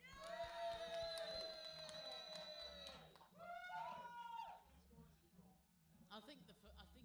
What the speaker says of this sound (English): And the opposite team, give us a cheer.